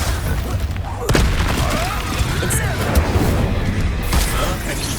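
An Incendio fire spell cast in the wizarding game Hogwarts Legacy, a loud whooshing burst with a booming impact near the start, followed by crackling flame and combat noise under a raised voice.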